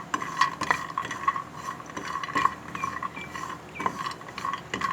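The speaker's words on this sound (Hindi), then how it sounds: "इसके साथ हमने इनको थोड़ा सा सौते कर लिया है" Phool makhane (fox nuts) sautéed in a pan for panjiri, giving steady stirring and light clinking of a utensil against the pan, with a few sharper taps standing out over a continuous scraping sizzle.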